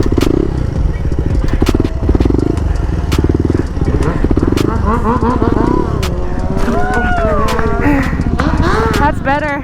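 Supermoto motorcycle engine revving and wavering in loud bursts as the rider holds a circle wheelie, the pitch rising and falling with throttle, with chirping tire squeals and scrapes joining in later.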